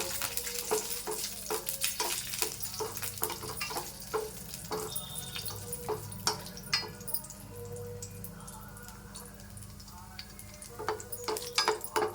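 Cashew nuts roasting in coconut oil in a pan for a coconut milk halwa, a soft steady sizzle broken by repeated stirring scrapes and clicks, close and moderately quiet with no talking.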